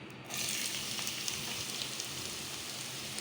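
Chopped onion hits hot oil in a pan and breaks into a steady, close sizzle that holds evenly after a sudden start, fairly quiet with no talking.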